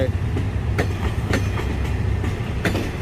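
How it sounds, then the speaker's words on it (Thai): Passenger train rolling through Bang Sue railway station in Bangkok, a steady loud rumble with repeated rhythmic wheel clicks over rail joints, heard up close and continuous throughout. "ขบวนนี้เป็นรถขบวน10 นะครับ เชียงใหม่กรุงเทพเข้าไปเมื่อเช้า ส่งผู้โดยสารแล้วก็ลากกลับมาครับ"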